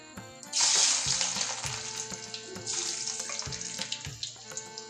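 Cumin seeds and garlic drop into hot oil for a bitter gourd curry, setting off a sudden loud, hissing sizzle that holds steady and then settles into a slightly softer crackle, with no talking.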